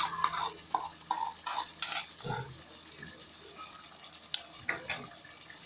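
A spoon stirs a pot of beef biryani masala with yogurt and softened tomatoes, giving soft scraping and thick squelching strokes in a loose rhythm, close by, with faint clinks against the pot.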